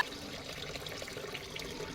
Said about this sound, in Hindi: पानी मैं इधर निकाल रही हूँ चावल में से, क्योंकि पानी अभी निकाला नहीं था।